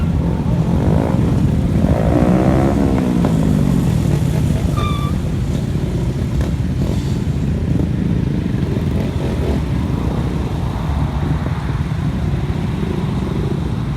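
Several mini moto motorcycles pull away together from an ice cream stop on a group ride, engines revving and droning steadily and loudly throughout, with no talk over them.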